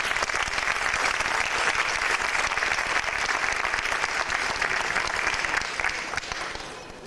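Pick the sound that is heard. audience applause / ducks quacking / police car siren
audience applause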